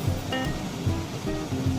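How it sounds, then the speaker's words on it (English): A pot of Canadian peach preserves bubbles steadily up close, a continuous watery churning with soft low pops in an uneven rhythm. "You can hear the cauldron bubbling away."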